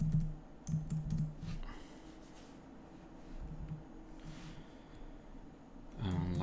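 Typing on a computer keyboard while coding in Rust, soft close key clicks in short irregular bursts with pauses, quiet and alone.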